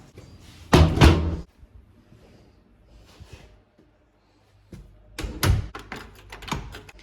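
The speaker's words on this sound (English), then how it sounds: "Let me shut that door." A door is shut at home in a cozy domestic setting, giving one loud close thump near the start, then quieter rustling and a cluster of knocks and clatters later, with no talk.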